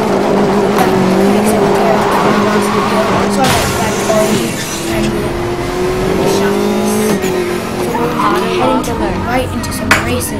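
Race cars roar through the video game Need For Speed: The Races, engines revving and shifting pitch with tire squeals and skids, loud and continuous, while a voice talks over them.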